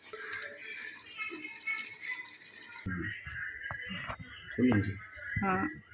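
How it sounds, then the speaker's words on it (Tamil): A steady hiss of water being poured into a pot for chicken biryani for a few seconds, then it stops and someone talks over faint kitchen sounds. "ஒரு 1:2ன்ற கணக்கில் தண்ணி ஊற்றி ஆட் பண்ணிடுங்க."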